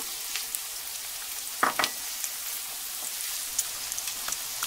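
Cabbage and onions cooking in butter in a pan for haluski, a soft, steady sizzle with a couple of brief clinks or stirs near the middle, quiet and close, with no voices.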